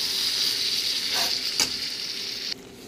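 Egg bhurji sizzles steadily in a pan as it is scrambled, a bright, continuous frying hiss close by that eases off slightly near the end.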